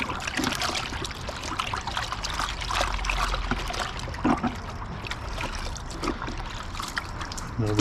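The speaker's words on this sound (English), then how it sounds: "I'm going to go ahead and dump the rest into the bucket here" Car wash shampoo solution pours and splashes steadily into a bucket, a continuous sloshing trickle with a few clunks near the end.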